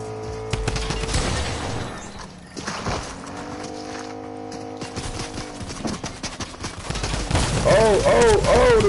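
Video game gunfire hits the player with bursts of rapid shots and cracks, mixed with engine hum and game sounds, while a voice talks over parts of it.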